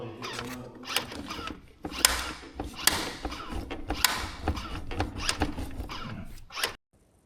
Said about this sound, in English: the electric release button does work, you can hear it working